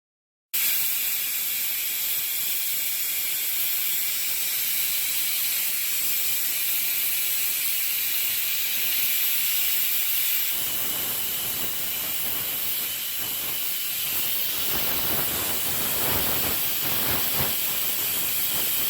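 A pressure cooker cooking greens with salt gives a loud, continuous steam hiss, which turns into rapid, pulsing whistle bursts through the second half.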